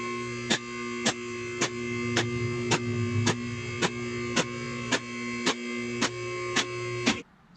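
A vehicle lift raising a 1963 VW Beetle body off its chassis gives a steady electric motor hum with a regular pulsing click about every half second, ending abruptly as the lift stops.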